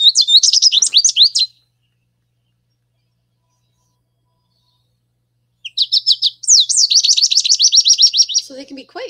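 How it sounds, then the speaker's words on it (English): American goldfinch calls come in two bursts of bright, rapid twittering chirps, close and loud, separated by several seconds of silence, with the second burst longer and more varied. "And here's some versions of their call."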